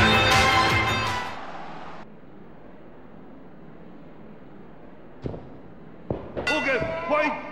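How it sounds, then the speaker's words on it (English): A ring bell clangs at a Thursday Night Throwdown pro wrestling main event, a loud metallic strike ringing out, then fading into arena murmur before a few more sharp clangs. "There's the opening bell for tonight's Thursday Night Throwdown main event"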